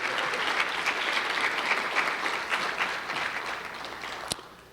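An awards ceremony audience applauds the honorees with sustained, evenly textured clapping from a large crowd, moderately loud, tapering off near the end after a sharp final clap.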